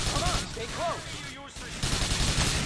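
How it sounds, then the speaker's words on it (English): Video game gunfire: bursts of rapid shots over a dense, noisy game soundscape, with whooshing, sweeping effects mixed in, loud and continuous. "Somebody shooting."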